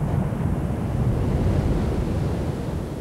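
Big ocean surf breaking where large waves suit big surfboards, a steady loud roar of crashing water with wind buffeting the microphone, no voices.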